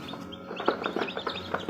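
Newly hatched chicken chicks chirp inside an opened incubator, a rapid cluster of close, bright peeps repeating without pause.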